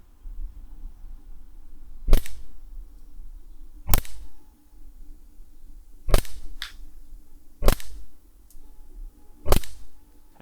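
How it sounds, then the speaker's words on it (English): An Umarex Glock 17 airsoft pistol fires about five sharp, snappy single shots at irregular intervals of roughly two seconds, aimed at a canister about 20 meters away, against a low background hum with no talking. "This pistol has some freaking range"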